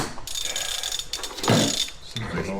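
A half-inch wrench works on a Club Car golf cart battery terminal connection during a lithium battery conversion, giving metallic ratcheting clicks and scraping against a steady background hum, close by, with a short louder burst midway.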